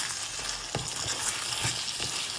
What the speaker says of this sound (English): I want my channa to fry down with the curry and all these aromatics that we added.